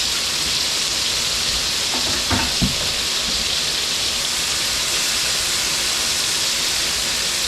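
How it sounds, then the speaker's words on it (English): Diced medium yellow onion frying in a pan, a loud continuous sizzle and hiss with a couple of brief stirring clatters partway through. "And we're going to cook that for a few minutes until it's translucent."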